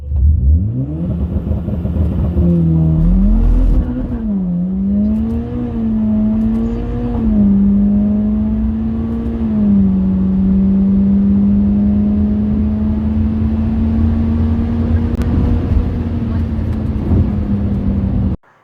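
Mitsubishi Evo X making about 430 wheel horsepower, launched on a quarter-mile run: a loud, close engine roars up through the revs, shifts, then holds a long sustained drone before cutting off abruptly.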